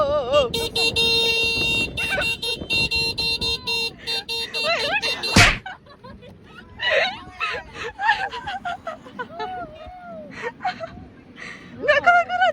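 Car horns honk back and forth in a street horn battle, loud layered blasts and beeping tones crowding together, with people shouting and laughing over the noise.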